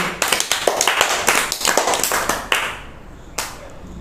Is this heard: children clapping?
yes